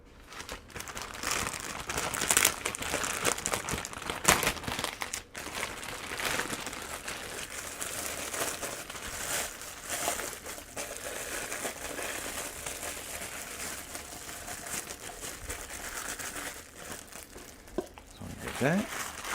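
Plastic cups and dome lids being handled while setting up for bubble tea, giving loud crinkling and crackling of thin plastic with sharp taps and rustles, close by, while a person talks over it.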